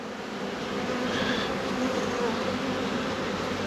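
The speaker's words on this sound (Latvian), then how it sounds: "Reku mums lapsena laupa." Wasp buzzing close by at an open beehive while rain begins, a steady insect drone that holds at an even level throughout with no voices.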